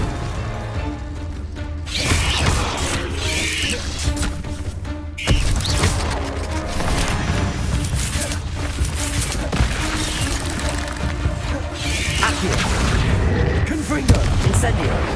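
Confringo blasting spells in the Hogwarts Legacy game: repeated heavy booms and crashing impacts through a long, noisy fight, with several sharp blasts standing out from the steady din. Voices are heard at times.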